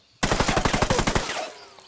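Rapid burst of automatic gunfire from a 556xi rifle in the video game Ghost Recon Wildlands, about a dozen loud, evenly spaced shots fired in quick succession, then a brief fading tail, with no talking.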